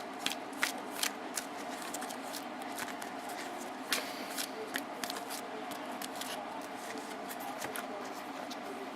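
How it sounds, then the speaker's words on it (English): Rapid crisp riffling and snapping of playing cards being shuffled, in repeated quick bursts, close up with low background noise. "I'm going to just shuffle up my deck, as you can see."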